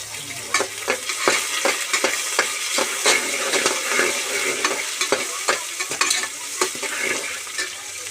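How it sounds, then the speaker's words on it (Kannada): Fenugreek leaves frying in a pan for boti biryani, a steady close sizzle broken by repeated scraping stirs in an irregular rhythm, no voices. "ಇದಕ್ಕೆ ನಾವು ಈಗಲೇ ಒಂದು ಸ್ವಲ್ಪ ಮೆಂತ್ಯ ಸೊಪ್ಪು ಹಾಕ್ಕೊಂಡ್ರೆ ಚೆನ್ನಾಗಿ ಫ್ರೈ ಆಗುತ್ತೆ"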